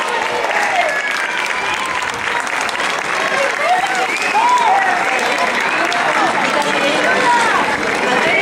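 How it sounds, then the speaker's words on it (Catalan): Loud, sustained applause from an audience at a ceremony honouring award-winning high school students, dense clapping with crowd babble and some voices underneath. "Un fort aplaudiment també per elles"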